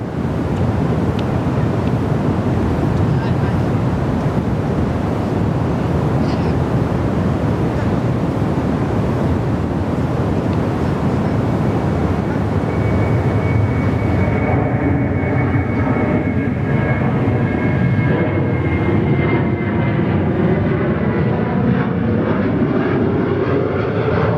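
A Virgin Australia Boeing 737-700 on its takeoff roll at Perth Airport, a loud sustained jet roar heard from a distance with heavy wind noise that thins as the engine tone rises near the end.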